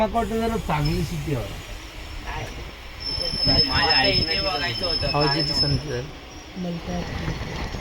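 A train pulling into Malkapur station, a steady rumble with a high metallic squeal running through it, heard from on board under continuous conversation.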